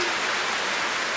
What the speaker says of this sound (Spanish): El sonido de las gotitas de agua, que está lloviendo.